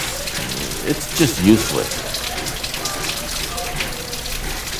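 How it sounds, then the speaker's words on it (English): Steady rain patters and hisses on a surface, a constant wash of drops under a brief spoken voice. "After all, rain is just noise to our ears."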